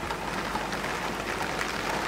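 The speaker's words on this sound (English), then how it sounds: "Pouring rain." Pouring rain drums steadily on a camper van during car camping, a dense, even hiss that stays loud and unbroken throughout with no voices.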